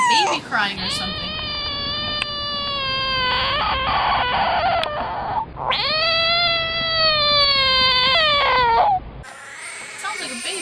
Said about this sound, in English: Sounds like a baby crying or something.